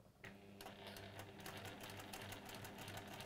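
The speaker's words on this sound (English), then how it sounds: "I'm sort of sewing across the folds" Sewing machine stitching across the folded edges of a second pocket along a dashed line, a close, steady rapid mechanical whir with needle clatter running almost continuously without talk.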